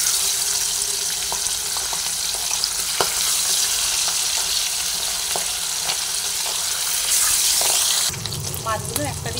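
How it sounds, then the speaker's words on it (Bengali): Pabda fish sizzle and crackle in hot oil in a pan, a dense, steady frying hiss with scattered pops, which shifts to a different, splashier texture near the end. "এরপরে মাছগুলো তেলের মধ্যে দিয়ে ভেজে নিচ্ছি। আগেই বলেছি তেলটা গরম হয়ে গেছে।"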